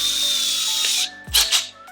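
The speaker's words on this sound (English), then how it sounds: "I'm starting by pre-drilling" A small bit drills a pilot hole into a BMW 2 Series rear diffuser indoors, giving a steady, close whir for about a second before it cuts off, followed by a few sharp clicks and handling knocks.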